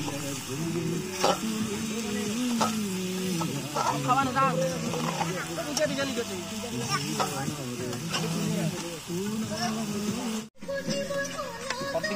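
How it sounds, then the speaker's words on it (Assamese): Chicken sizzles and is stirred in a hot pan for a New Year's Eve home meal, with a steady frying hiss and scraping strokes as voices talk over the cooking. "চিকেন একবার লাড়ি দে"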